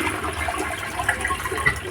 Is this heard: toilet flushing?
yes